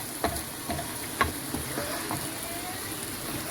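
Vegetable and chicken sauce cooking in a pan, giving a steady soft sizzle with a few light stirring clinks and scrapes scattered through it.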